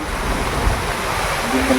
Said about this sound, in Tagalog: Tingnan nyo, sobrang lakas ng hangin lang naman